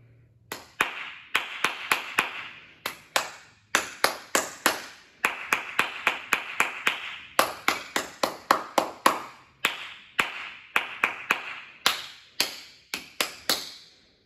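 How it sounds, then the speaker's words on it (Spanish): A teacher claps bare hands in a series of short rhythmic patterns for a music aptitude test. The crisp, close claps come in distinct groups separated by brief pauses, with no voices. "La profe hará diferente ritmo con la palma y lo tendréis que repetir exactamente igual."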